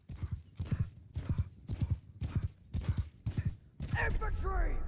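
A steppe horse gallops in Mount and Blade: Bannerlord, with rapid rhythmic hoofbeats in close repeating bursts. A whinny and clattering battle noise rise at the end, and the scene is busy with no clear words.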